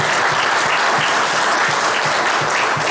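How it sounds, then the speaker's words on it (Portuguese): An audience at a lecture event breaks into loud, dense applause, a continuous roar of many hands clapping close by and filling the whole short moment without talk. "Uma salva de palmas para todos."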